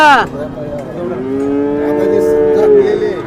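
A calf at a cattle market moos loudly in one long, drawn-out call that holds steady for about three seconds, close to the listener, with no talk over it.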